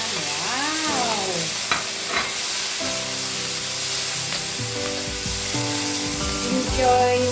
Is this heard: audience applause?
no